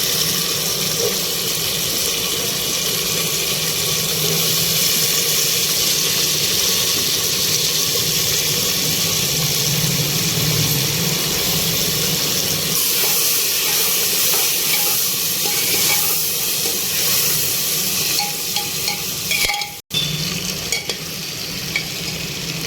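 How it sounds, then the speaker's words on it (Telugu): Cut taro root pieces fry in a pressure cooker with a steady, close hiss and sizzle, stirred at times, ending with a brief clatter. "కట్ చేసుకున్న చామగడ్డ ముక్కలు కూడా వేసుకొని కొంచెం ఫ్రై చేయాలి"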